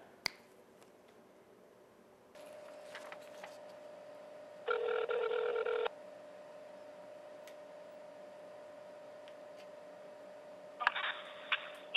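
A telephone call is placed: a steady dial-tone-like hum comes in, broken by two buzzy ringback bursts about six seconds apart, with faint button clicks early on and no talking.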